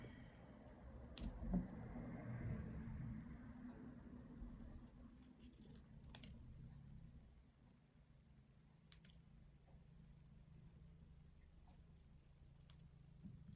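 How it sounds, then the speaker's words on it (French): Scissors cut roughly through paper in a quiet room, a few faint snips and crisp clicks spread out over the stretch, with low background hum and no talking. "On prend une paire de ciseaux, on coupe grossièrement."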